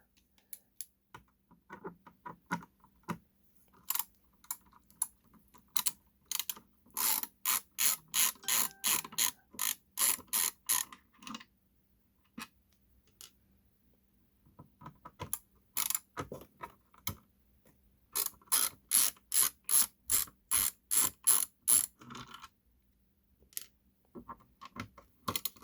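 Screws being backed out of a Technics SL-6 turntable with a screwdriver, producing rapid bursts of crisp ratcheting clicks in repeated runs separated by short pauses, close and clear with no talking.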